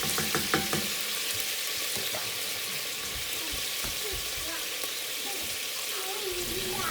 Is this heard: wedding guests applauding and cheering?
no